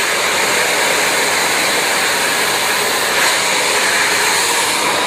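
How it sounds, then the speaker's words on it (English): A hair dryer set on heat blows continuously during a salon blow-dry with a medium-sized brush, a loud, steady whooshing roar close to the microphone with no talking over it. "So have your dryer on heat."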